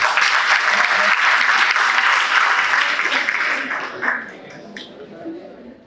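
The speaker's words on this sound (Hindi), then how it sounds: "अब हमारी तालियां इसलिए बनती है" A college audience at a National Girl Child Day event applauds the performances, dense sustained clapping that holds loud for about four seconds and then thins out and fades.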